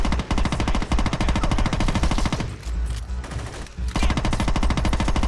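Rapid automatic gunfire from the video game Saints Row 2, loud and dense, with a brief quieter gap in the middle before the bursts resume.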